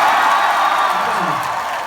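A concert crowd at a live show in Dublin applauds and cheers steadily, a dense wash of clapping and whoops filling the whole moment at a loud, even level.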